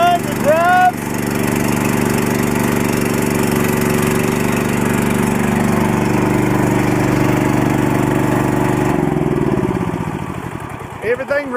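Small tractor fitted with a swapped Harbor Freight 420cc engine, running at a steady loud drone close by, then dropping in pitch and slowing toward idle near the end.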